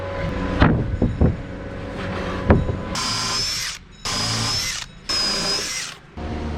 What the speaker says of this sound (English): Now I can flip this over, throw some more screws in it.